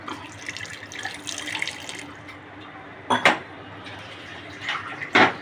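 Water runs from a tap in a steady stream into a pot for boiling tea, with two brief metallic clanks of the pot partway through.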